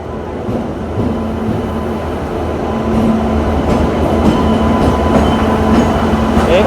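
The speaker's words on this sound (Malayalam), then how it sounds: "ട്രെയിനിൽ പോവാണ് ഗൈസ്" Continuous rumble and rattle from inside a moving passenger train, steady clatter of wheels on track with occasional clicks, growing slightly louder.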